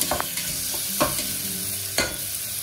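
Chopped onions being stirred in a frying pan for a mutton curry, with three distinct utensil scrapes and clacks roughly a second apart over a steady low sizzle.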